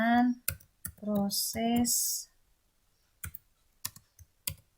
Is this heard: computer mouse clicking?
yes